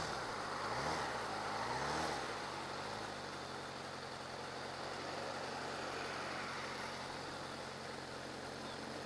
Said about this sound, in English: Oh, the truck's got to turn in.